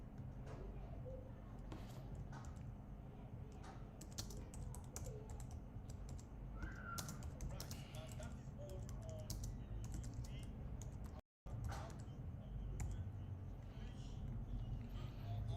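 Keys tapping on a computer keyboard in an irregular run through most of the clip, quiet and close, over a steady low background hum with a brief dropout near the end.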